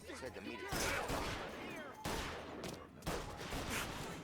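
Repeated gunshots in the video game Mafia, loud sharp cracks recurring about once a second with ringing decay between them, fired in the open, and a voice talks over parts of the exchange.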